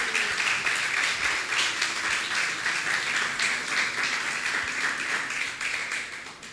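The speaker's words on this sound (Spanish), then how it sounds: "denle un fuerte aplauso a Dios" A church congregation applauding, dense steady clapping from many hands filling the room for several seconds, loud and sustained before slowly easing off.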